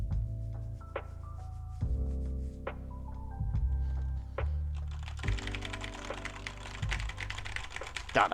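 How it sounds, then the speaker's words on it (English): Rapid bursts of clicking keystrokes on a computer keyboard, close and fairly quiet, with no talking. "God, I'm so fast at typing."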